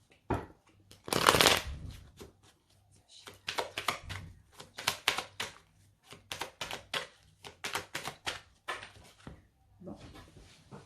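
A deck of tarot cards being shuffled by hand: repeated crisp riffling and flapping bursts in an uneven rhythm, close and fairly loud, with a soft voice murmuring briefly at times.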